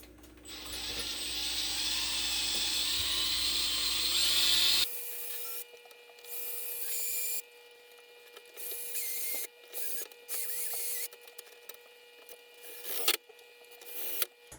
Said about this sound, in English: we are ready to drill or insert the screws in this way into the uprights